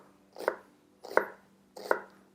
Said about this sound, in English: you make a couple slices in the side, then chop down from the top,